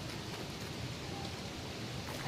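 Steady rain in the game Don't Starve Together, a dense, continuous hiss of falling water that stays level and fills the whole stretch with no break.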